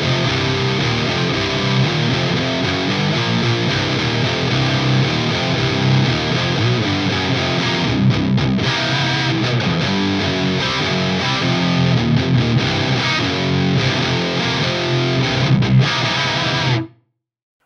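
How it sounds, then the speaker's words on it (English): A heavily distorted electric guitar plays thick, saturated riffs through preamp-heavy Rectifier-style high-gain distortion, loud and up front, ending abruptly into silence. "the classic Recto sound is very much a preamp heavy sort of distortion"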